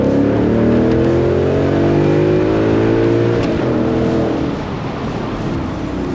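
A Ford Mustang with a Corsa exhaust drives on a winding mountain road, its engine loud and near, the exhaust note rising and falling through gear changes before easing slightly at the end.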